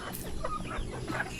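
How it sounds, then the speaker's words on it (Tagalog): Chickens being fed let out a few soft, close clucks over a murmuring background, brief and fairly faint. "Manok man yan."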